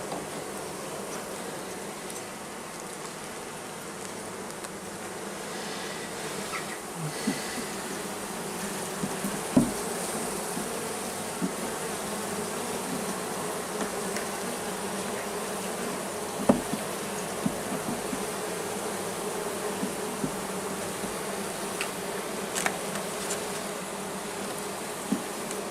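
Honeybees buzzing at a beehive, a continuous close droning hum that lasts throughout. Occasional faint clicks and taps sit over the steady buzz.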